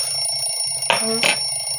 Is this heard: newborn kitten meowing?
no